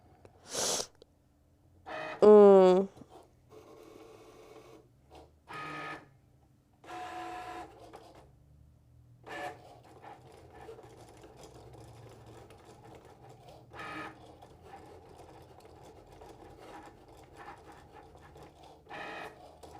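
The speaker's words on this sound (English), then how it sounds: "we're gonna say already sent to printer" A printer runs a sticker sheet for a Cricut print-and-cut project: short mechanical bursts of feed and carriage motion, with a louder whirring pass early on, then a steadier, quieter rattle of printing that continues to the end.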